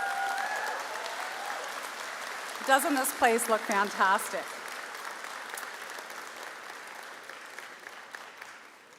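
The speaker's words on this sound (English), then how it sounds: "let's give them a big round of applause." Applause for Cape Breton University teams fills the Convocation Hall at a spring convocation, a sustained patter of clapping like rain that runs the whole way through while a speaker talks briefly over it midway.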